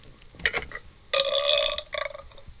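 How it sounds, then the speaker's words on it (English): A closed-mouth burp after eating a cookie comes out as a few muffled, throaty pulses spread over a couple of seconds, close and fairly loud, with no talking over it. "I burped with my mouth closed."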